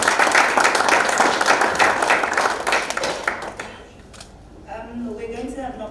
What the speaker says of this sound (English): Can you give him a round of applause once again?